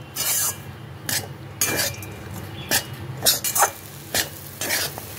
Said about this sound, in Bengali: দিয়ে ভালো করে আরেকটু নাড়াচাড়া করে নেব